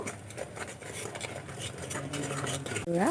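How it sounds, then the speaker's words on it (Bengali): Spice paste stirred and fried in a pan for a fish curry, heard as a soft, close sizzle with scraping stir strokes, ending with a brief voice at the very end. "মশলা খুব ভালো করে কষিয়ে নেব"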